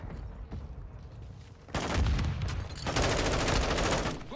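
Gunfire in the video game Call of Duty comes as sustained, dense bursts of automatic weapon fire, loud and close, growing heavier midway with overlapping shots and no talking.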